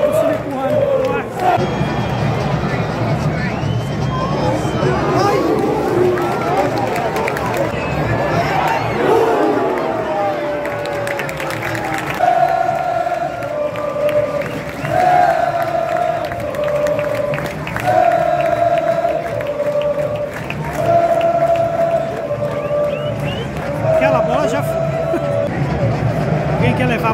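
A football stadium crowd roars and chants during a Santos corner kick, dense and loud throughout, with a rising sung chant carrying over the babble while a commentator talks over it.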